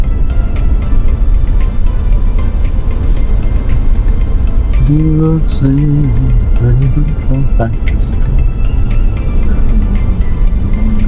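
Road traffic in Thailand hums continuously around, with cars passing and engine drone throughout, someone talking over it in the middle of the stretch.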